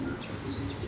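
Pigeons coo softly at a breeding loft, a short low burbling call with faint chirps around it.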